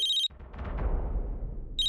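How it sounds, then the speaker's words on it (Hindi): A telephone rings in a Hindi TV serial scene, bright electronic trills at the start and again at the end, with a rumbling, swelling background between them. "पूर्वी तेरा फोन"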